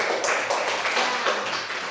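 Classroom students clapping their hands together, a dense patter of many claps carrying steadily at moderate level through the whole moment.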